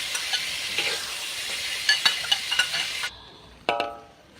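Food stir-fried with oyster sauce in a pan hisses and sizzles continuously, with scraping stirs and a few clinks from the utensil; the sizzle drops away abruptly near the end before a last clatter.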